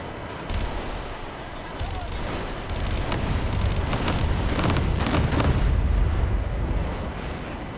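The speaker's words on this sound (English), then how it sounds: "That is so many rockets. It is unreal." Rockets fired in rapid volleys in the War Thunder video game, dense crackling launches and explosions building into a loud continuous barrage, with someone talking over it.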